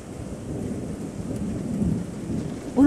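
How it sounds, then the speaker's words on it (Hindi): A heavy downpour with rumbling thunder, a steady dense roar of rain with a low rolling rumble, ending in a sudden louder rising tone at the very end. "तेज बिजली की कड़क के साथ अचानक से मूसलाधार बारिश होने लगी।"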